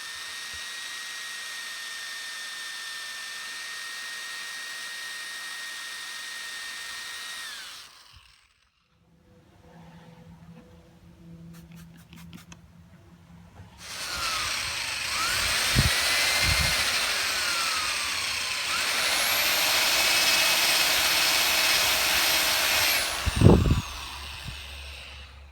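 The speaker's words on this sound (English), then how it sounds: "I'll grab attachments for the drill, combine that with some chemicals," An electric drill spins a pad-cleaning attachment in several runs, from a steady whine to a pause and then a louder, rising whir, with a few sharp knocks near the end.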